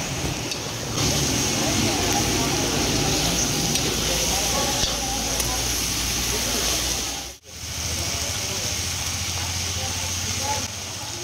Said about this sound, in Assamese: মাংস 2 কেজি আলু 1 কেজি খুব ধুনিয়াকৈ 10 মিনিট মান ভাজি লম